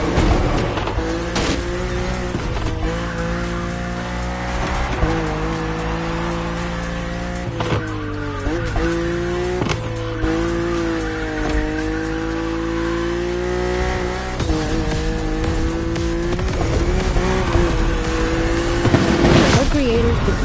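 A car engine in The Crew Motorfest hums and shifts pitch while cruising open roads, sustained and loud for the whole stretch with layered tonal sound.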